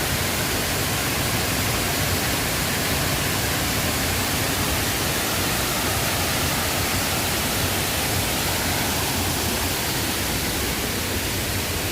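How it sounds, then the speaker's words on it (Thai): A small waterfall at Kroeng Krawia falls in a steady, dense wash of broadband water noise, loud and unbroken throughout with no voices. "น้ำตกขนาดเล็ก"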